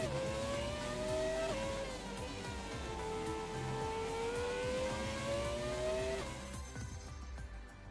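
A Formula 1 car engine in the game F1 2017 drones continuously at high revs, pitch dipping and climbing through gear changes, steady and close throughout.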